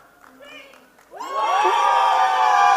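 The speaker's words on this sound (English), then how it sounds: "Huge round of applause for TRF Upcycles." Audience at a startup competition final erupts into loud cheering and shouting for the winning team after a brief moment of quieter talk, the crowd noise swelling and holding strong.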